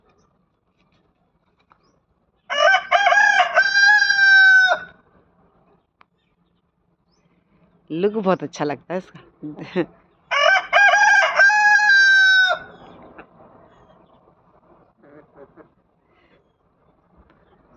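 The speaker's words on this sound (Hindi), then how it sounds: "अब इतना कुकड़ू कुकड़ू कुकड़ू सुबह सुबह से परेशान करना शुरू कर देता है" A rooster crows loudly and close by in the early morning, giving two long drawn-out crows separated by a burst of clucking, with a short remark spoken between them.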